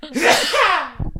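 A single loud, close sneeze bursts out and trails off, followed by a brief breathy sound.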